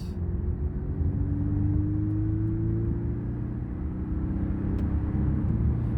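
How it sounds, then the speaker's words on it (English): Porsche 718 Cayman accelerating up a highway on-ramp, a steady loud engine drone from inside the cabin with a slowly rising engine pitch and constant road rumble throughout, no talking. "we're merging onto the highway now to test out its high speed performance"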